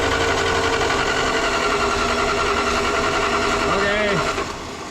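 A Snow Cat engine cranks with its mechanical fuel pump working, giving a steady loud mechanical whirring and chugging that briefly rises and falls near the end before dropping away.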